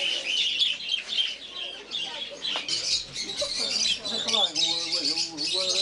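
Birds squawk, chirp and cluck throughout a home aviary, a dense overlapping chorus of close, loud calls with bright whistled tones, one rising call standing out near the end, while speech runs underneath.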